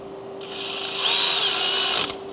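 A power tool briefly whirs up and runs for about two seconds while tightening an AC line stud on a 2021 Ford F350 King Ranch truck, a close, high-pitched buzzing burst that starts and stops abruptly.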